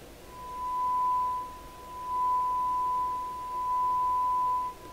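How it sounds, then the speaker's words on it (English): A steady, strong test-signal tone plays through a Crosley shortwave radio, a single clean unbroken pitch holding for several seconds over a faint hiss, with its loudness swelling and dipping slightly. "Now we're going to put a heavier signal in here. Okay, so that's a whopper of a signal now."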